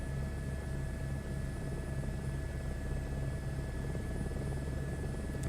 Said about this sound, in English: Is that going to be suitable to put the helicopter down on?